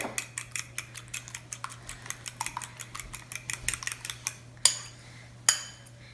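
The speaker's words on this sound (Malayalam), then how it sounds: "ഇനി ഒരു മുട്ട നന്നായിട്ടൊന്ന് ഇതുപോലെ നന്നായിട്ടൊന്ന് ബീറ്റ് ചെയ്തെടുക്കണം ഫോർക്ക് ഉപയോഗിച്ച്" An egg whisked with a fork against a bowl while making chicken puffs: a quick run of light metallic clicks and taps, close and clear, with a couple of sharper knocks near the end.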